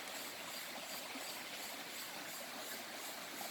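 A forest creek flows steadily over rocks, giving a constant broadband rushing wash with no pauses, close and moderately loud, without voices.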